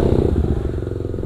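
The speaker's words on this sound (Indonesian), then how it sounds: "Ini motor kayaknya kampasnya agak slip di awal sih." Kawasaki KLX 450 supermoto engine pulling away with the clutch slipping, a loud close rumble with a steady chugging pulse that rises slightly in pitch over a brief moment.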